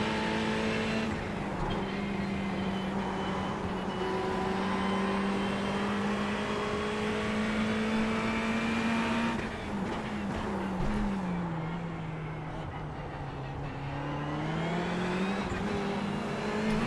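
Ferrari race car engine in iRacing at Snetterton, a steady loud in-car drone holding a high pitch, dipping and rising as the car lifts and accelerates through corners, with no talking over it.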